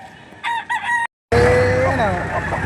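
Rooster crowing among chickens at the Padre Garcia livestock auction market in Batangas, loud and close, a crow and clucking, a brief gap, then busy crowing and market noise.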